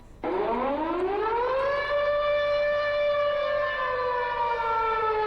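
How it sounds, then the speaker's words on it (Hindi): A civil defense siren in Jammu and Kashmir, during cross-border firing, winds up from a low growl to a sustained high wail and holds its tone steadily, loud and unbroken. "ये देखिए जम्मू कश्मीर में लगातार सायरन बज रहे हैं।"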